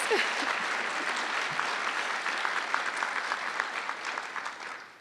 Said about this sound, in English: Clap, clap, celebrate this